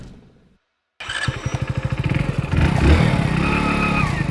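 A motorcycle engine kicks to life after a moment of silence near a nail-covered ramp, settling into a fast, loud, thumping idle that then rises into a stronger, steady rev.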